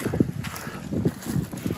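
Gusty wind buffeting a microphone outdoors on a Latvian country homestead, a low, uneven rumble that rises and falls throughout the short stretch.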